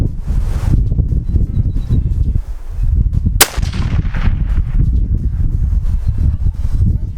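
A single sharp 6.5 Creedmoor rifle shot cracks out loud and close at an outdoor range, followed by a brief rolling echo over steady wind noise.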